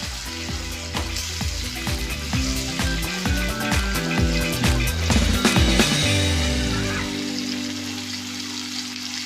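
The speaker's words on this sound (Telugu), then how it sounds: "పచ్చిమిరపకాయలు కలర్ చేంజ్ అయ్యేంత వరకు వేపాలన్నమాట" Green chilies fry in a pan over a medium flame, giving a steady close sizzle with clinks and scrapes of stirring throughout.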